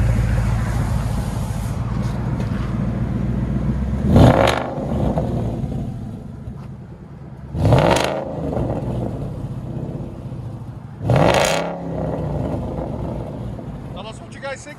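Ford Mustang 5.0 GT V8 fitted with a Corsa Extreme exhaust, idling with a low rumble and then revving hard three times at even intervals. Each rev is a sharp, loud bark that falls back to idle.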